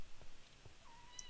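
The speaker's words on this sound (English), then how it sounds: "Come on, you stupid cat, you're blind." A Minecraft cat gives a short, faint meow inside a player-built shop, heard alone over quiet background hiss.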